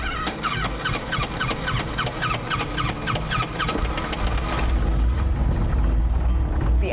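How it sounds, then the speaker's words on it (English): A vintage 1940s-50s airplane engine starts: rhythmic cranking chatters for several seconds before the engine catches and settles into a loud, steady low rumble. "The engine started on the first try"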